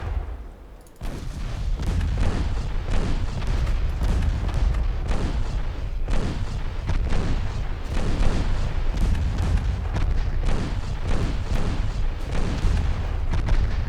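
Warship guns boom in rapid, overlapping salvos in Ultimate Admiral Dreadnoughts, a dense, loud barrage of heavy naval artillery rolling on continuously with barely a pause.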